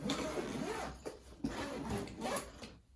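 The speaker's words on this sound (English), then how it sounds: "Close the zipper." Zipper drawn shut around a packed carry-on suitcase, a few quick close-up rasping pulls in short bursts with brief pauses, fairly quiet.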